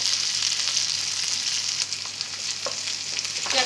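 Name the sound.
capsicum stirred and mixed with sauces in hot pan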